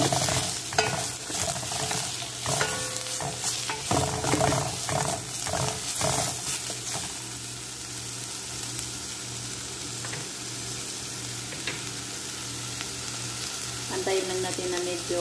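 Ginger and onion sauté in a hot pan with a loud, crackling sizzle and several stirring scrapes early on, then a steadier, softer frying hiss.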